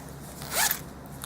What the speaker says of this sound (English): three sizes of canvas, cotton duck canvas zipper bags